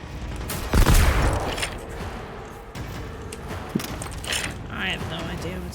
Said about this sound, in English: Oh, he's still shooting at us.